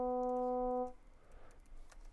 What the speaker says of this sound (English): we make more and more sidebands, and so the spectrum gets richer and richer